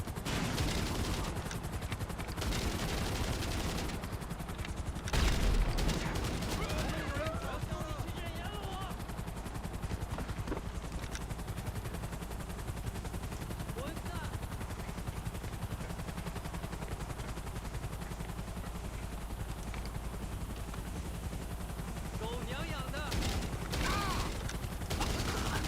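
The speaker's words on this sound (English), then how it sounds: "Could these helicopters please just fuck off?" Helicopters and bursts of gunfire in the game GTA Online, rotor drone and scattered shots rumbling at moderate level through a busy in-game battle, with occasional louder bangs.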